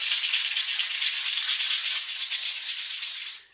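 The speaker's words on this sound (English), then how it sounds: "You can also use some sandpaper." Sandpaper rubs rapidly back and forth over small concrete bricks for mini fingerboard obstacles, a steady close rasping scrape with even strokes that stops abruptly at the end.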